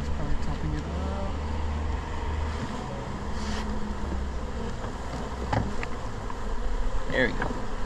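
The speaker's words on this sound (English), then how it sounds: "All sorts of bees everywhere." A swarm of bees in a roof three stories up buzzes densely and continuously close by, with occasional louder individual bees passing near.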